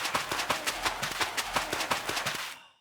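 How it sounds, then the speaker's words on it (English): Steady, evenly spaced gritty crunches repeat about every fifth of a second at a quiet level: Minecraft soul sand blocks being placed and broken in a quick rhythmic loop. "soul sand being placed and broken played at a quiet dynamic sounds exactly like this"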